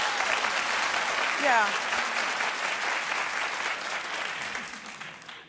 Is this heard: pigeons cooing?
no